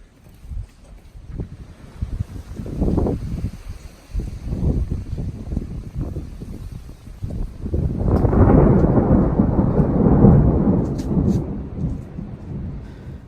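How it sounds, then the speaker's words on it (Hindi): Deep thunder rolls and rumbles in low bursts at Pulpit Rock near Stavanger, Norway, then swells into a louder, sustained roar with wind noise through the second half. "बादल टाइट गरज रहे हैं, लगता है बारिश आने वाली है"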